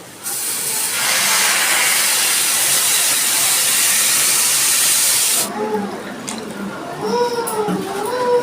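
Water poured into a hot pan of masoor dal with stalks, an immediate loud hissing burst of steam that holds strongly for several seconds, then drops away abruptly as a voice speaks over the softer simmer.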